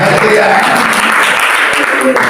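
A church congregation at a prayer and fasting service claps loudly and continuously, with voices rising over the applause.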